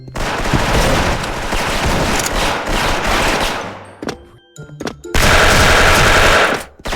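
Rapid automatic gunfire from a Platinum FAMAS rifle in a shooter video game, loud sustained bursts that break into a few scattered shots, then another long loud burst.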